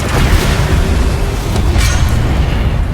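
The Flipendo spell is cast in the Hogwarts Legacy video game, a loud, dense booming burst sustained over a few seconds with no speech.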